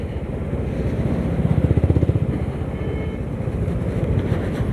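A Honda CB350 H'ness motorcycle cruising on a highway between Dehradun and Haridwar, a steady engine thrum with a pulsing exhaust beat and wind rush, heard alone without talk.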